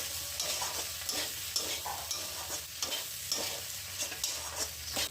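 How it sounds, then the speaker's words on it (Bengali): Okra masala with fried fish roe and cumin powder being stirred in a pan, a steady close sizzle of frying under repeated scraping strokes of a spatula, with no voices. "সব কিছু আবারও নেড়ে চেড়ে নিচ্ছি।"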